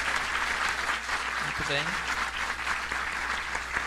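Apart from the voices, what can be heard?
audience applause for the panel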